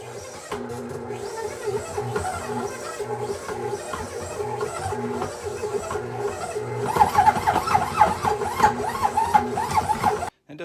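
A stand mixer runs steadily while kneading thin-crust pizza dough, a continuous mechanical whir with knocking, and it grows louder and busier in the last few seconds.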